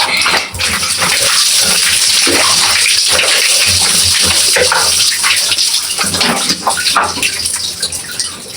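Water pours loudly and continuously into a tub or basin while someone bathes, a close, steady gushing splash that fills the whole stretch.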